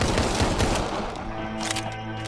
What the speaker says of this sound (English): Now it's time to shotgun these